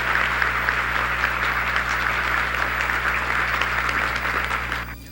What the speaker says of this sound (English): we all gave them a round of applause for what they have done for all of us